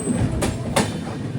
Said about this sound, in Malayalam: ട്രെയിൻ ഇപ്പോൾ ചന്ദ്രപൂർ റെയിൽവേ സ്റ്റേഷനിലേക്ക് ഇതാ എത്തുകയാണ്